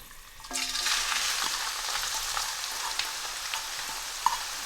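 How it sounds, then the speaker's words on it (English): Chopped onion hits hot oil for a Punjabi halwa puri and aloo chana breakfast, bursting into a loud, steady sizzle that holds for several seconds with a few soft scrapes and clinks from stirring. "So now that the oil's hot, I'm going to add the onion."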